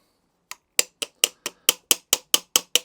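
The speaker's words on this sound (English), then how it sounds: "now I'm going to give it a little bit of a tap" The carburettor bowl on a Masport Rotarola lawnmower is tapped to loosen it, giving eleven sharp, close metallic knocks in a quick, fairly even rhythm after a brief silence, with no talking.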